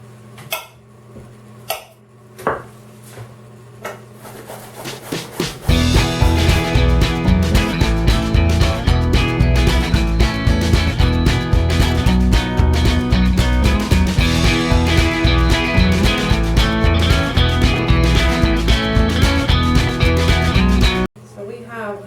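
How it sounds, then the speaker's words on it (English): Three medium zucchini being grated in a kitchen, a steady, loud rasping and scraping that runs continuously after a few sparse knocks at the start. "I'm going to shred 3 medium zucchini"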